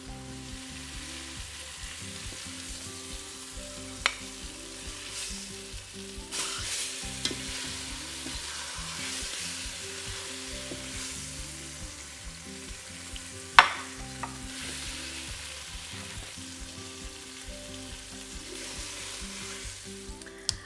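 Steak pieces browning in a hot pan for Swiss steak make a continuous, even sizzle, with a low hum underneath and a few isolated clicks and one sharp clank of a utensil against the pan.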